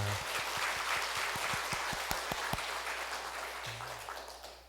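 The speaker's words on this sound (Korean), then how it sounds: "영광의 박수, 감사의 박수를 함께 올려드리겠습니다." Church congregation at a Sunday worship service claps in thanks and praise, a soft spread of applause with a few sharp distinct claps near the start, fading gradually toward the end over a low hum.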